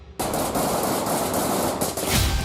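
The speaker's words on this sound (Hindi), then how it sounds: "पहले रडार पर गोली फायर होती है" Rapid sniper rifle gunfire at the Israel–Lebanon border strikes radar and surveillance equipment, a loud dense burst of shots starting abruptly after a brief quiet and continuing for about two seconds.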